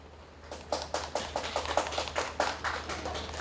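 Applause at a K-pop showcase welcoming a solo artist: a small crowd of reporters clapping, a moderate patter of claps building after a quiet start and carrying on steadily, fairly close with no voices.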